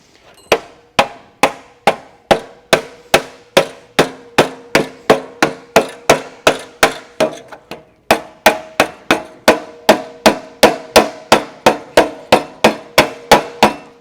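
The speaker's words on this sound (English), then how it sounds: "eventually, it takes a little bit more oomph to get it to go around, and then we have to use a metal hammer." Metal hammer striking sheet metal during hand metal shaping, a steady run of about forty sharp ringing blows at an even rhythm, loud and close with no talk.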